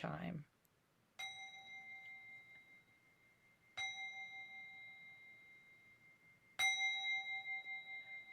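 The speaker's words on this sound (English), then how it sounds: "Let's see if I can make the chime." A meditation chime is struck three times, each a clear ringing bell tone that sustains and slowly fades before the next strike, with a short burst of speech at the very start.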